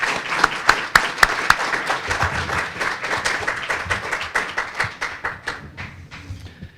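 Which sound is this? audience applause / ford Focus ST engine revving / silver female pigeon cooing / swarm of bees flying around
audience applause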